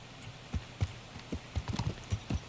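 Horse hooves in the video game Kingdom Come: Deliverance clip-clop in an uneven trotting rhythm, close and fairly clear, with no one speaking.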